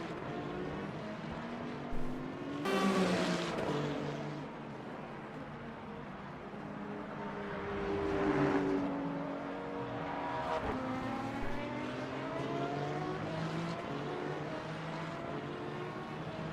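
GT3 race cars scream past at the Algarve circuit, engine notes rising and falling as several cars go by in turn, with distinct loud swells around the three and eight second marks against a steady track background.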